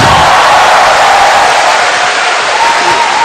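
Audience at an Indonesian televised event applauding, a dense, steady wash of clapping and crowd noise filling the room at close range for the whole stretch, with no distinct voices standing out.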